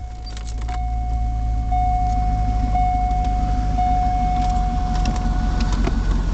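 A 2010 wholesale car's engine starts after jangling keys and a chime, then settles into a steady low rumbling idle close by, with a constant electronic tone ringing over it and no talking.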